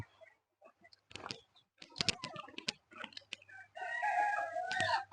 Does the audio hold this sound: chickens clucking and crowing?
yes